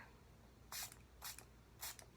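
Three short hissing bursts of cleaner sprayed onto a makeup brush, each spritz close and crisp, evenly spaced about half a second apart against a quiet room.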